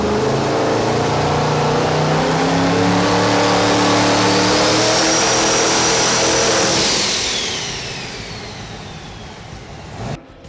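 The engine of a red Vauxhall Victor race car revs hard and loud up close, its pitch sweeping upward in a long climb. Then the sound falls away to a quieter idle with a brief final blip.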